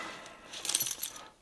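Keys jangle briefly and softly with a bright metallic clinking, close by, as they are handled near a sling bag.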